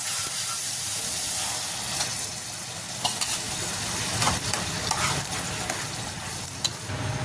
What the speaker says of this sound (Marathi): आणि आपण हे वाटलेलं पालक टाकायचं त्यामध्ये